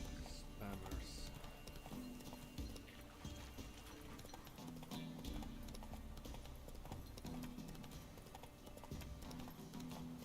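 Geralt's horse Roach gallops in The Witcher 3, and its hoofbeats keep up a fast, rolling rhythm with steady intensity. Speech and game sounds run under the hoofbeats.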